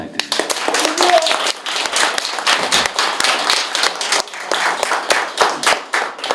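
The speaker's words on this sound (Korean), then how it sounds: "박수 한번 부탁드립니다" Audience at a Korean modern history seminar applauds a professor after a lecture and Q&A, a moderate crowd clapping with uneven rhythm for several seconds, fairly close.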